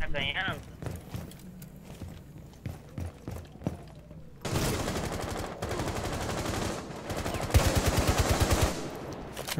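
Gunfire in the tactical shooter game Rainbow Six Siege: scattered shots, then dense sustained automatic bursts with a rapid rhythmic stutter, loud and close, with a player talking over it.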